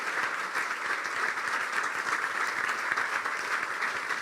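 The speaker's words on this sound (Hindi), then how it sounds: "यीशु के लिए जोरदार तालियां बजाएं प्लीज" A church congregation applauds loudly during a sermon, a thick, continuous roar of many hands clapping together that holds at an even level throughout.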